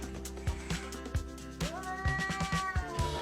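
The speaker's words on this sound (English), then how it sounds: "He's actually a really sweet cat." A cat meows in a rising, drawn-out call near the close, with soft rustling and faint handling sounds scattered throughout.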